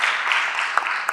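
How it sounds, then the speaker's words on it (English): Brief burst of applause from a workshop audience of Ugandan filmmakers, steady clapping close by with a few sharper claps standing out, no talking. "A round of applause to yourselves, please"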